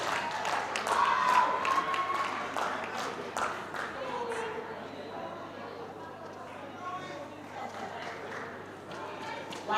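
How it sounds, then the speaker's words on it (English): An audience applauds a pageant runner-up, with scattered clapping and crowd noise that gradually thins and quiets, while an announcer keeps talking over it. "A round of applause for Miss Majula June, guys"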